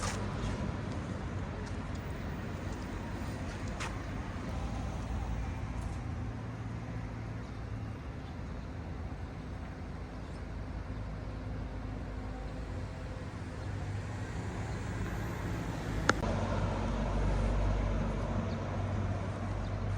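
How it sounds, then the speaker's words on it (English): Low road traffic rumbles steadily around a small-town gas station in northern China, with vehicles droning and passing at a distance, a faint click or two, and a slightly louder engine swelling near the end. "This is the town's gas station."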